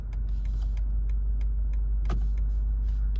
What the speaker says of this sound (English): Turn signals, let's look at those